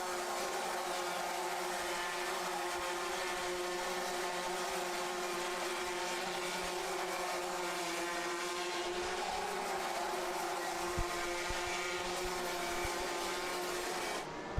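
Race karts climb uphill on the final lap of a kart race, a sustained high buzzing engine whine that holds steady and loud for the whole stretch with a slight pitch shift partway through.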